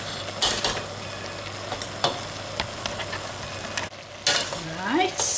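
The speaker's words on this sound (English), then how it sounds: "I'm going to continue stirring until all the meat's coated with the flour" A spoon scrapes and stirs minced beef coated in flour and stock cubes in a hot pan, with a steady sizzle underneath and intermittent clinks against the pan, close and clear.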